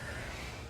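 A person blows out a deep breath during a first-aid conscious-casualty assessment: a short, steady, breathy rush of air, close and fairly quiet, with no talking.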